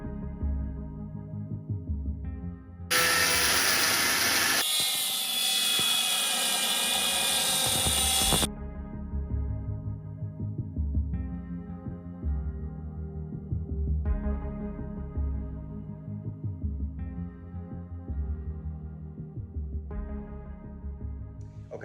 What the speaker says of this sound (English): I've just drilled a series of holes directly through the line, cut line in the floor